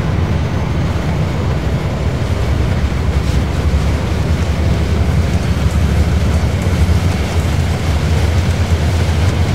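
A train rolls steadily along the rails, a continuous loud rumble with low clattering that holds at the same level throughout, with no voices.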